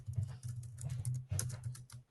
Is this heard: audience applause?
no